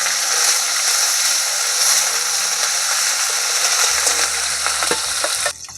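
Cumin, ginger and green chili pastes fry in hot oil over a cumin and bay leaf tempering for a pakal fish curry, giving a loud, steady sizzle with scattered clicks of stirring close by.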